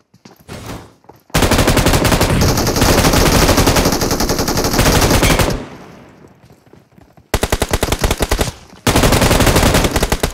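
Loud bursts of automatic gunfire in a first-person shooter match, a long sustained burst followed by a pause and then two more rapid volleys, all close and intense with no talk.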